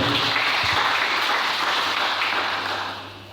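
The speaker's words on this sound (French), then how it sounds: "Est-ce qu'on peut acclamer le Seigneur?" A church congregation under a tent applauds and cheers for the Lord, steady dense clapping and shouts filling the space before tapering off at the end.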